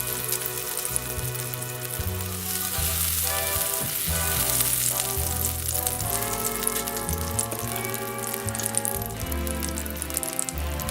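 Steady sizzling and frying hiss of butter in a hot heavy frying pan, continuous and fairly quiet, with a low hum running underneath.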